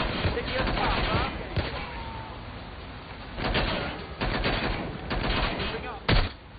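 In the video game Watch Dogs Legion, gunfire cracks out in scattered sharp bursts, some close and loud, over a continuous rumble of combat, with voices calling out briefly.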